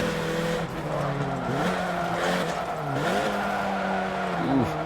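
A Peugeot 308 GTI race car in Forza Motorsport 7 revs and shifts through gears, its engine tone climbing and dropping steadily, with tire squeal and other cars audible close by.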